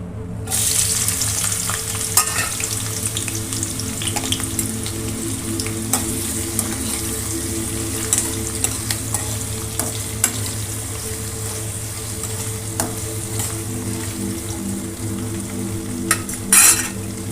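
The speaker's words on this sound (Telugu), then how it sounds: "ఆయిల్ కొంచెం వేడెక్కాక ఆనియన్ కట్ చేసిన మిర్చి వేసుకోవాలి." Chopped onion and green chilies fry in hot oil in a pan, a loud continuous sizzle close by with frequent clinks and scrapes of a spoon against the metal.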